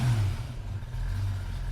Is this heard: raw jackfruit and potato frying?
no